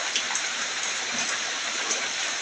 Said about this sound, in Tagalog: Maulan na gabi, oh. Muulan.